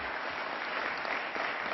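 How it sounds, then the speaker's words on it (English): A crowd applauds after a low-cost high-speed internet bill is signed in Buffalo, New York, a short burst of steady, dense clapping heard fairly close with no pauses. "Let's give them a big round of applause."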